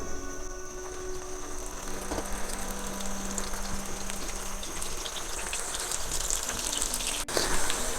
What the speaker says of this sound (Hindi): उसके बाद हल्का सा फ्राई करना है